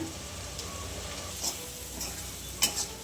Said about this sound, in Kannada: ಇಷ್ಟು ಇದೆಲ್ಲ ಹಾಕೊಂಡು ಚೆನ್ನಾಗಿ ಫ್ರೈ ಮಾಡಿಬಿಡೋಣ